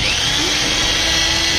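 Power drill boring into a motorcycle, a Classic 350, for tail light mounting, a steady high-pitched whine held close and loud without a break.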